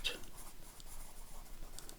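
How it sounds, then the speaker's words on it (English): A pencil scratches softly and continuously on paper while drawing overlapping circles, a faint steady rubbing texture with no talking. "We're not trying to draw spirals, more like circles,"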